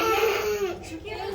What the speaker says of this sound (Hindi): ये बच्चा रो रहा है।